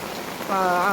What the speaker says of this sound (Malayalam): മഴ വന്നു